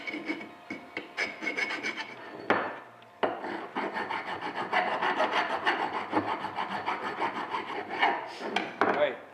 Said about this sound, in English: I'm just filing off some of these edges that I don't like.